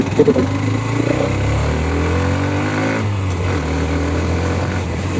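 A Hero Xtreme 125R motorcycle engine revs up close during a test ride, its tone climbing steadily in pitch as it accelerates, then settling into a sustained, loud drone.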